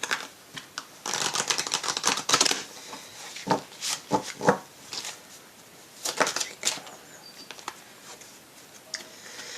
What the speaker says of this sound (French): Je vais brasser plus parce qu'on a les énergies des précédents tirages, donc il faut que je brasse.